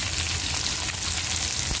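Onion sautéing in a hot pan with a steady, even sizzle that holds throughout a brief moment, with no voices.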